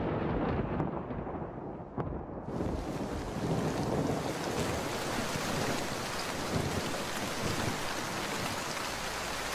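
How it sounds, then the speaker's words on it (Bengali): Heavy rain and gusting wind roar steadily in a cartoon storm scene, a dense wash of noise that grows fuller after a quieter start, with no distinct thunderclap standing out. "দেখছো না আকাশে কেমন বিদ্যুৎ চমকে ডেকে উঠছে"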